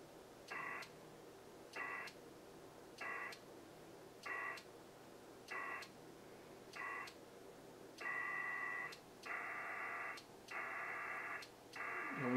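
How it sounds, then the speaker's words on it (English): HF radio modem linking to a remote station to send email, regular bursts of buzzing data tones about once a second, then longer sustained tone bursts, steady and alone over faint background hiss. "this is HF radio over that modem to that remote station"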